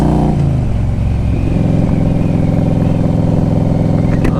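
A 2000 Harley-Davidson Road King Classic fitted with a hypercharger intake rumbles loud and close, its engine note dropping after a brief rev and then settling into a steady, throbbing cruise with no voices.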